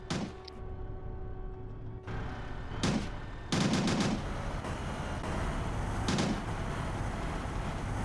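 Armored vehicle gunfire in the multiplayer shooter Winter War: sustained rattling bursts and booms layered over a constant engine and battle rumble, with a few louder salvos standing out, no speech.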